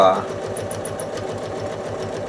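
A sewing machine runs at a rapid, even pace while stitching a modern square quilt block, its quick mechanical chatter continuous and close after a brief voice at the start.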